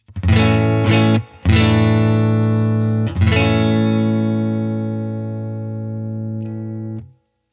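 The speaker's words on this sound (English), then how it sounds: "here's the clean tone again. And the reverb is coming from the pedal." Clean electric guitar chords through a UAFX Dream '65 Reverb amp pedal ring out, a few strums followed by a long sustained chord that fades slowly with a reverberant tail from the pedal's reverb.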